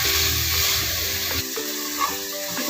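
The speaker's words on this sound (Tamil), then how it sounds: "இந்த தக்காளியும் நல்லா வதங்கி வரலாம்." Tomatoes and onions sauté in a pan for beef gravy, giving a steady, close hissing sizzle with a few light stirring clicks.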